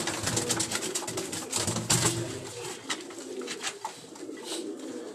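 Pigeons on a rooftop coo in soft, throaty repeated calls close by, overlapping with light rustling and flutters in the background.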